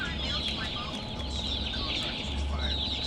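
A bird creature in the video game Garten of Banban 2 clucks like a chicken in a steady run of short calls over a dense, constant game backdrop, with no talk.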